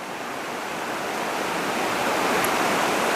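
Steady rushing water of the Meander River roars without pause, a dense broadband wash like a fast river running close by, no voices.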